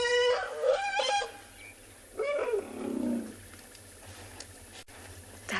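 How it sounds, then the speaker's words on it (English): Young buffalo calf being weaned on an African safari at sunrise, giving a few loud bleating, screeching calls close by with quieter ambient gaps between them. "That is the sound of a young calf being weaned and being denied milk from mum."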